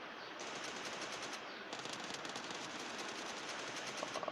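Rapid automatic gunfire from PUBG Lite gameplay, two sustained bursts of fast crackling shots separated by a brief pause, loud and continuous with no talking.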